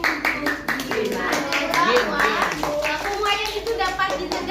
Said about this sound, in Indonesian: Beli tepuk tangan untuk Gina.